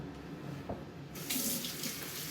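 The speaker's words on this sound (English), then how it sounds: "Well, I washed my hands." A bathroom tap runs as hands are washed under it, starting with a brief clink before the water stream rises and rushes steadily, close and fairly loud.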